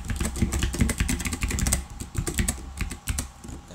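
Rapid, uneven clicking of keys on a computer keyboard, close and steady for several seconds with brief pauses, with a low steady hum underneath.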